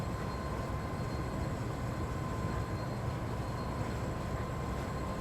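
Steady rumble of an IET train running in the Train Sim World 6 simulator on a Great Western route, a continuous broad drone of traction and rolling noise with a faint tonal whine, unbroken throughout.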